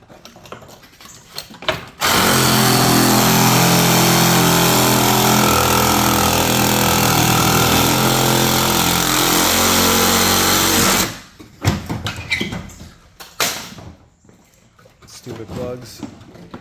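Power tool cutting into the bent frame rail of a totaled drift car, a loud steady whining grind running about nine seconds, close up, then stopping, with clatter and handling noises before and after.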